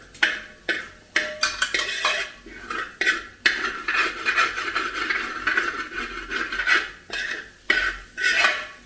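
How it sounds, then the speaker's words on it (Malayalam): Egg and vegetables stirred in a pan for masala rice, with repeated scraping and rubbing strokes of a spatula against the pan in an irregular rhythm, close and moderately loud. "ഇനി നമുക്ക് വെജിറ്റബിൾസ് എല്ലാം കൂടെ അതിൻ്റെ കൂടെ ഇട്ട് ഇളക്കിയിടും"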